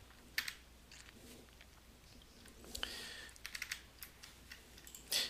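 Keys on a computer keyboard are typed to enter a render command line for Maya, a quiet, close, irregular patter of clicks in short bursts with pauses and no talking.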